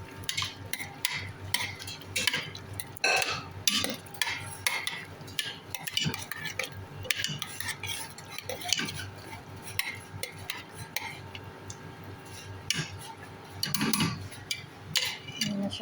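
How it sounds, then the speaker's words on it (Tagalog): A utensil stirs tomato paste into arroz valenciana in a pan, with repeated scraping and clinking against the metal and a faint sizzle underneath, heard close for a sustained stretch with no voices. "Mix lang po natin."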